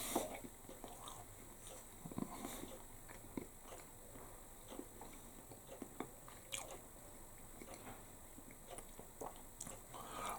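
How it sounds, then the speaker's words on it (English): Haggis and chips being chewed up close, a quiet, continuous run of soft squishy bites and crunchy munching with irregular clicks and smacks, no talking over it. "Now I've been munching away for a wee while there, and there's still a load left."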